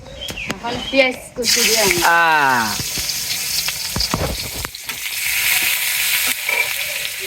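Eggplant and potato fry with spices in a pan, a loud, steady sizzle that rises sharply as the food goes in and stays bright and hissing, with people talking over the start.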